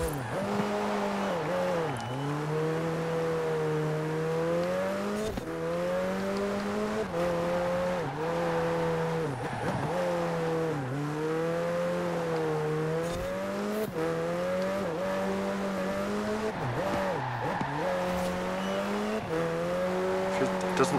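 A McLaren 720S races a hill climb in Forza Horizon 4, its engine note rising and dipping through repeated revs and gear changes, loud and continuous, with occasional tire squeal on the corners.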